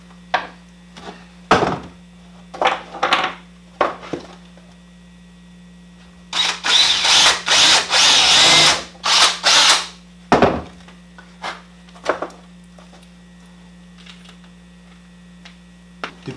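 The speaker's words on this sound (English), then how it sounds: "And then all we got to do is drill." Power drill boring a hole in a GoPro hat mount, with a few short trigger bursts and clicks, then a sustained loud whirring run for about three seconds and more brief bursts, close by.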